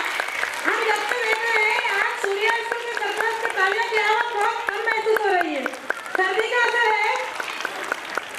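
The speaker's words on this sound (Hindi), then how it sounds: "जोरदार तालियां से स्वागत कीजिए," Audience applause at a school annual function, steady clapping running under a loud amplified voice that speaks or calls out through most of the clip.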